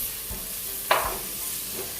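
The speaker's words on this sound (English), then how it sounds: "we're going to allow this to saute for a minute or 2" Garlic and tomatoes sauté in a pan for Jamaican steamed callaloo and saltfish, giving a steady close hiss with a single sharp spatula scrape near the middle and a few soft stirring knocks.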